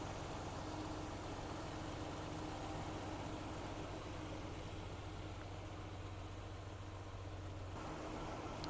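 A 2011 Lexus RX 350 AWD engine idles quietly, a smooth, steady low hum held evenly throughout with no talking.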